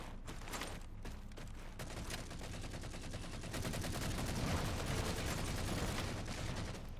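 Rapid Halo 4 gunfire crackles in dense, sustained bursts, like automatic weapons in a multiplayer firefight, growing louder and steadier toward the end with no talking over it.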